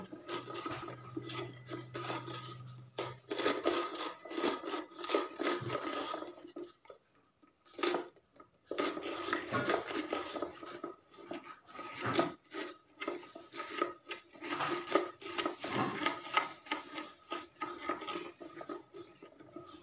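A hand-operated onion chopper is pushed and swung forward over a single onion, giving repeated rasping, scraping bursts with brief pauses, close and fairly loud, no voices.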